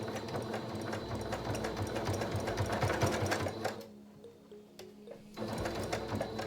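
A sewing machine stitches binding onto a fabric mask in a rapid, steady mechanical chatter that runs close and continuous. It stops for a little over a second, then starts again.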